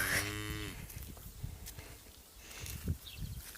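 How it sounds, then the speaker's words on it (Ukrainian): A cow moos loudly near the start, a low drawn-out call, followed by rustling and shuffling footsteps nearby. "Чого мукаєш?"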